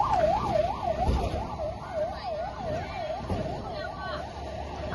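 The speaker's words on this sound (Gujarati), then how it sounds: "લઈ જાઓ એ એમ્બ્યુલન્સ આવી" An ambulance siren wails in a steady, rapid up-and-down pattern, loud and close, over low traffic rumble and faint background voices.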